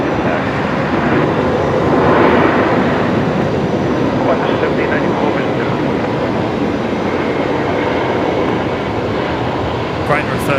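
An airliner lands at Brisbane Airport with loud reverse thrust, a broad continuous jet roar up close that holds for the whole stretch.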